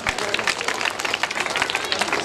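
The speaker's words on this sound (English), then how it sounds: "Now give a big round of applause." Applause from an audience at a school Independence Day programme: dense, steady clapping from many hands fills the short moment, close and loud, with a little crowd noise mixed in.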